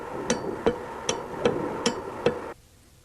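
Sharp mechanical clicks from a Bosch VE diesel injection pump's fuel solenoid switching on and off repeat about every third of a second, six in a row over a low hum that cuts off abruptly after the last one.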